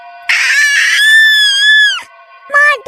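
A witch lets out a sudden shrill, wailing scream, loud and close, holding a long quavering note before breaking off, then a shorter second cry.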